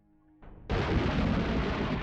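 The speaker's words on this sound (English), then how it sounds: "The sound of a monstrous explosion rang out, accompanied by a violent quake that rocked the very foundation of the school." A monstrous explosion in the video game Corpse Party Blood Drive, a low rumble that bursts into a loud, sustained roaring blast and keeps thundering without fading.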